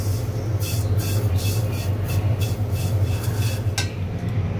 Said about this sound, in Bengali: সেমাই ভেজে নিচ্ছি তেজপাতা গরম মশলা দিয়ে